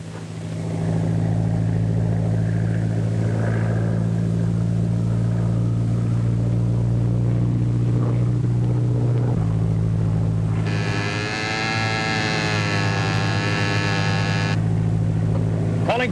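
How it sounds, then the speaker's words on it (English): A small plane drones loud and steady overhead, its engine a continuous humming roar that shifts pitch briefly toward the end. "Just spotted kid's plane with smoke attachment."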